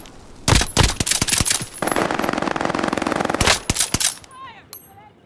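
Loud bursts of automatic gunfire from the video game Call of Duty: Modern Warfare, with sharp single shots followed by a sustained rapid machine-gun volley and further cracks, ending in a quieter tail.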